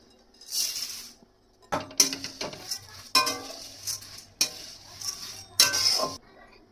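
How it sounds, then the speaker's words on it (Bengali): Flattened rice (chira) dry-roasting in a hot wok, tossed in irregular bursts of dry scraping and rustling with light clinks of a spatula against the metal, close and fairly loud, separated by brief quieter gaps. "প্রথমে কড়াইটা গরম হয়ে গেছে, চিড়েটা শুকনো খোলায় ভেজে নেব"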